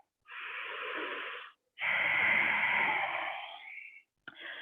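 Deep yoga breathing during a morning stretching session: a long inhale, then a longer, heavier exhale with a slight wheeze, close and loud, followed by the start of another breath.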